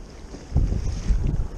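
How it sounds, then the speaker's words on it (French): Sea surf slaps and sloshes against the hull of an Old Town Predator PDL fishing kayak sitting in the backwash near a rock, a low rumbling wash with wind buffeting the microphone and no voices. "Je suis dans le ressac là par rapport au rocher."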